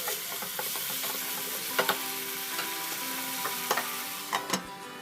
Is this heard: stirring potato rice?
yes